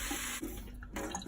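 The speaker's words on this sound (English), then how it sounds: "And we add the water now." Cold water running from a tap into a soup pot for German chicken soup, a brief close splashing pour with a short break midway.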